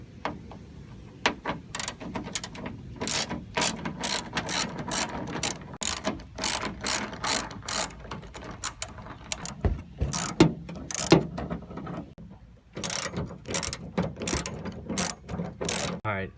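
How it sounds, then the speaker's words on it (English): A hand ratchet with an extension backs out 10 mm bolts from a car spoiler, giving long runs of rapid, close clicking strokes with brief pauses between bursts, quiet overall and without talk. "once you guys got those screws off and those bolts out"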